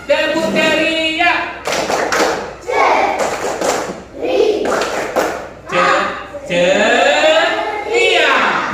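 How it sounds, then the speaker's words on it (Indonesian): Students in a classroom do a 'tepuk ceria' clapping chant, with loud, close bursts of rhythmic hand claps and thuds interleaved with chanted and spoken voices. "Orang ceria, tepuk ceria."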